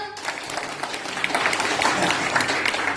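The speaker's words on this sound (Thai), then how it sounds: "ปรบมือตัวเองครับ" Sustained applause from a crowd, dense clapping filling the whole stretch at a steady, fairly loud level with no talk over it.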